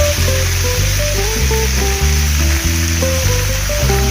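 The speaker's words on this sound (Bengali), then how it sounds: "এতে আমরা অ্যাড করব কাঁচা কলা আর ডাটা এটাও আমরা অল্প করে নেড়ে নেব" Raw green banana and drumstick pieces stirred and frying in a pan for Bengali sukto, giving a steady, loud sizzle that runs throughout under background music.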